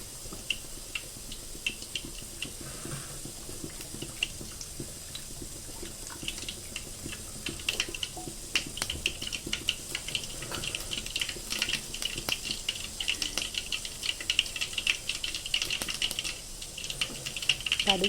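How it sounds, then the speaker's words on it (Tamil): Mustard seeds crackle and pop in hot oil in a home kitchen pan, a steady stream of small sharp ticks that thickens and grows busier toward the end. "கடுகு நல்லா பொரிக்கிட்டோம்."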